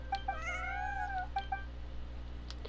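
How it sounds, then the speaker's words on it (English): In Genshin Impact, a cat lets out several short meows followed by one drawn-out, rising-and-falling caterwaul, all alone over a low, steady game background hum. "The cat speaks."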